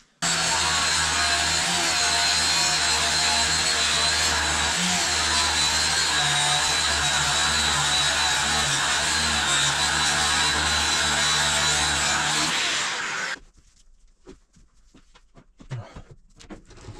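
A giant angle grinder cuts through metal in a workshop with a loud, continuous high-pitched whine and rough grinding for about thirteen seconds, then stops abruptly, leaving quiet clattering behind.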